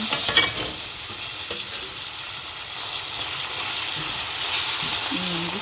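Ingredients for a mixed beans soup are sautéed in a pan, giving a steady close sizzle with occasional stirring scrapes and a brief bit of quiet speech.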